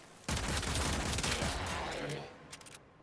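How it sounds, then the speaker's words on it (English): Rapid gunfire in the PS4 game Warframe erupts suddenly as a dense burst of sharp shots, then thins into a few scattered, fading reports near the end. "I have a habit of reloading every time I shoot"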